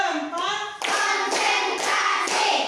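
A class of primary school pupils at SDN 15 Batang Anai claps the 'tepuk 4' pattern: four sharp, evenly spaced group claps, each landing with the children's chanting voices.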